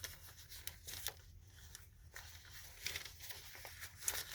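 Sheets of tracing paper handled in a shabby chic journal, giving soft crinkles and light papery rustles that come in short scattered bursts, quiet and close, with no talk.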